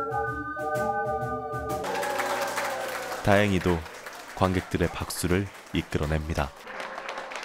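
Audience applause after a students' ocarina performance swells into steady broadband clapping once a short musical passage ends, with a narrator talking over it throughout.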